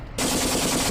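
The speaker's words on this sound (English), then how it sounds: "Do you want me to put tracer on them?" Sustained burst from a Leopard 2A4 tank machine gun in Steel Beasts, firing tracer at infantry in a town: loud, close, continuous rattling fire starting abruptly and running to the end.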